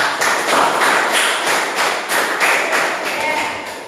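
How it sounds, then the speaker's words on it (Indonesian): Students in a classroom clap in unison for a group after its presentation, a loud, rhythmic run of sharp beats repeating about every half second. "Tepuk tangan buat kelompok."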